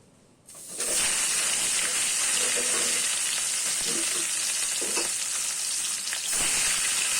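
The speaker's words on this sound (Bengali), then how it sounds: "তেল গরম হয়ে গেছে দেখো। এবার আমি মাছগুলো ভাজা করে নেব।" Bhola fish frying in hot oil in a wok, a steady loud sizzle that starts abruptly after a quiet moment and crackles on without a break, with a brief surge near the end.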